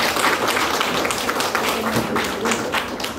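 An indoor audience gives a round of applause for a speaker after a talk about a painter, dense continuous clapping heard close and loud for about three seconds.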